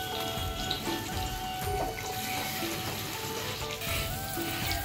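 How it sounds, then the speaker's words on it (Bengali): Capsicum pieces fry in hot oil left over from frying paneer, giving a steady soft sizzle and crackle that runs unbroken throughout, close by with no talk. "পনির ভাজার তেলটাতে ক্যাপসিকাম গুলা ভেজে নেব।"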